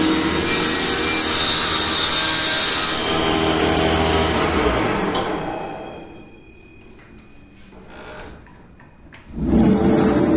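A homemade panel saw with a 185 mm blade cuts through wood or MDF in a loud, close whine. The blade then winds down into quieter spinning before another loud burst at the end.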